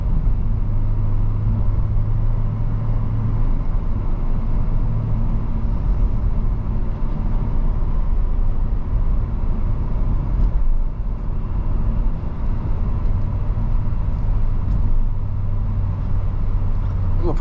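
A 2007 Mercedes-Benz SL55 AMG drives along with a steady, loud engine and road rumble, and the paddle-shifted gear changes show only as slight dips in an otherwise continuous drone, with a voice talking over it.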